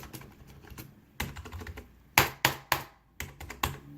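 Keys clicking on a Rosewill K51 RGB keyboard, a run of sharp, close taps in uneven bursts, with a few louder distinct strikes standing out from softer typing.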